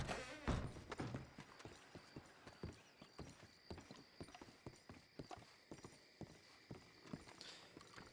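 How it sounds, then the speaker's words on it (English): Horse hooves clip-clop at a steady walking pace in Red Dead Redemption 2 (RedM), a moderately close, evenly spaced rhythm of hoof strikes following a short whinny at the start. "Wait. There's a horse out there."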